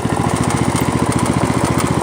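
A Poulan lawn tractor engine runs steadily while being driven on its first start of the season, a loud close rapid chugging with an even pulsing rhythm.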